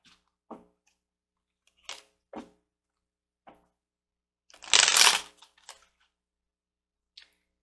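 Tarot cards are shuffled and handled for a daily card draw, with several short, separate riffles and taps followed by one longer, louder flurry of shuffling, then a last faint flick.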